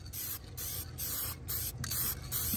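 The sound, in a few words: spray paint can spraying paint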